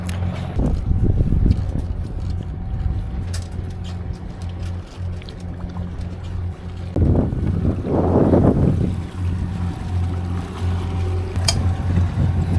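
A sailboat under way off Aegina in Greece makes steady wind and water noise, with wind buffeting the microphone throughout and louder gusts and sloshing swells around one and eight seconds.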